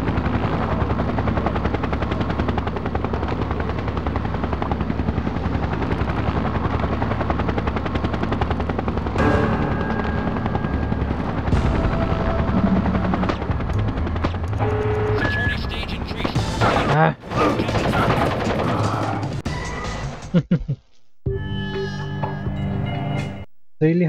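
A military Osprey tiltrotor aircraft from the stealth video game Splinter Cell: Pandora Tomorrow drones with a steady, loud rotor roar, mixed with game gunfire and effects that break up near the end.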